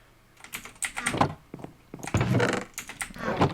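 Keys clatter on a Razer BlackWidow Ultimate mechanical keyboard in two quick, close bursts of crisp, uneven keystrokes separated by a short pause, with no voices.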